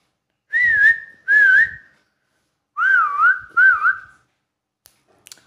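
A person whistles to pet lovebirds: four clear, loud, close whistled notes in two pairs, each with a warbling pitch wobble, followed by faint clicks.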